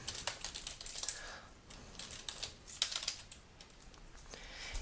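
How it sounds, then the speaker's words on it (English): Typing on a computer keyboard while entering site text into a CRM and website editor, rapid close key clicks in irregular bursts throughout, fairly quiet with no talk. "if I type in something here"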